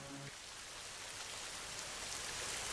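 Steady rain falling in a cartoon about a poor family's small house, a dense even hiss of drops that continues without a break and swells slightly toward the end.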